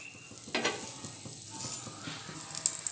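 A chicken aloo paratha fries on a pan, giving a steady low sizzle with a few crackles and one brief shuffle, quiet and close, with no voice.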